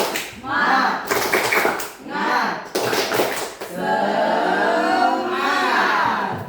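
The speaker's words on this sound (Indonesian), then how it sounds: "Jadi tepuk semangat saja ya, supaya membangkitkan semangat kita ya." A classroom of students does a rhythmic 'tepuk semangat' clapping chant as an ice breaker, with bursts of patterned claps and voices chanting along, then a sustained stretch of group clapping and cheering indoors.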